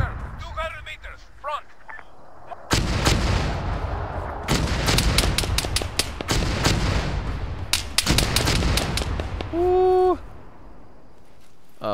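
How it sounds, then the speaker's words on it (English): Mortar explosions from ArmA 3 crash in repeated heavy booms, some in quick clusters, close and loud, with short bursts of speech between them and an electronic tone near the end. "That is definitely more mortars."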